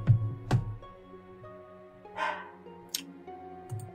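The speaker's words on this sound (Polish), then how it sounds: "Głupi pies." A dog in the video game Mount & Blade Warband gives a few separate sharp barks spaced over several seconds, over a low background hum, with no voices.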